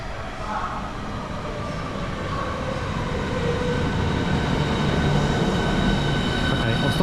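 A train passes nearby in London, a continuous rumble of rail wagons building slightly in loudness, with faint wheel squeal and no talking.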